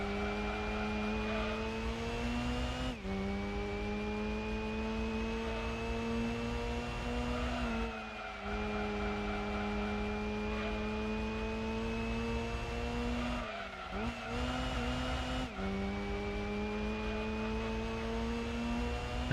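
Mazda RX7 race car in Gran Turismo 2 during an endurance race, a steady droning engine note holding high revs with brief dips at gear shifts across the whole stretch.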